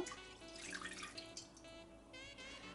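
Milk being poured into a kitchen container as a faint, brief trickling and splashing, quiet and close.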